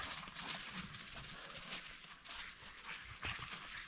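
Dogs pant and patter about outdoors in a forest in winter, with quick footfalls over a constant hiss of wind or ambient noise.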